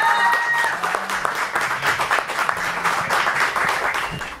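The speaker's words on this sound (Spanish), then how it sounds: "un fuerte aplauso para todos ustedes" Crowd applauding at a brewery launch event, dense sustained clapping that fills the whole stretch at a steady, fairly loud level, close by and with no break.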